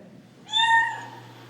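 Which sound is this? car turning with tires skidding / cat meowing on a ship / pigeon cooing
cat meowing on a ship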